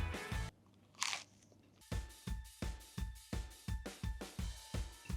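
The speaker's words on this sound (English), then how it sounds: "When you're trying a tatty scone, you really need to look out for the golden, crispy edges." Crispy golden tattie scone bitten and chewed up close, a loud crunch at the start and another near one second, then a steady run of about a dozen sharp crunchy chews.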